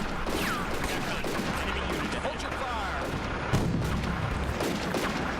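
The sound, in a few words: mortar and gun fire in the video game Combat Mission: Afrika Korps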